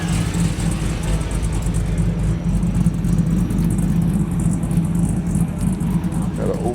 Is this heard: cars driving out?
yes